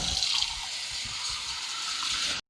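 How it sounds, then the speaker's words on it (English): Water pours steadily into a baking dish holding ramekins of crème brûlée, a continuous close splashing fill that runs on without pause and then cuts off abruptly. "I'm just going to pour some water in here"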